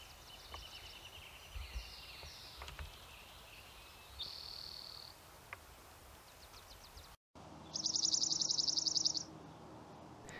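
A dark-eyed junco sings a bright, steady trill in spring Coast Range foothill forest, two clear bursts standing out over quiet ambience with faint chirps from other birds.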